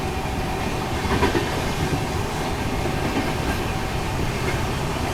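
The Humsafar Express on the Rameshwaram to Firozpur route passes Mandapam railway station with a loud, continuous rumble and rhythmic clickety-clack of wheels that never lets up.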